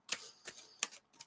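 Tarot cards are shuffled by hand, giving a few quiet, crisp clicking snaps in a loose, uneven rhythm, close up and faint, with no talking.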